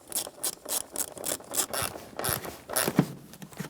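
Ratchet clicking steadily while tightening a hose clamp on the air inlet tube of a 2012-2018 Nissan Altima 2.5L, a close, rapid series of pawl clicks with no speech.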